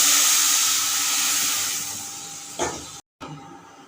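Water poured into a hot pan of cooked spices erupts in a loud, hissing sizzle of steam that slowly fades, with a short clatter near the end.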